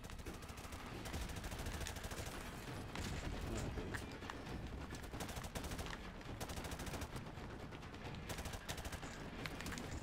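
Sustained, dense automatic gunfire and repeated shots from Call of Duty Modern Warfare Remastered, in a boggy battlefield level. The firing is loud and overlapping, with rapid bursts running without pause across the whole stretch.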